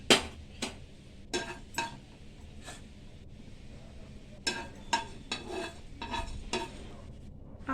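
Cumin and fenugreek seeds being fried and stirred in a pan. A spoon scrapes and taps against the metal in a series of brief, sharp strokes, with quiet gaps between them.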